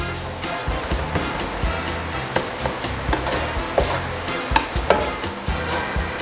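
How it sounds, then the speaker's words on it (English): Onions, peppers and a pork chop fry in a little oil, giving a steady sizzle broken by repeated clattering knocks and scrapes of stirring near the pan. "onions and the peppers and the pork chop with a little bit of oil, and we're going to let it fry for a little bit"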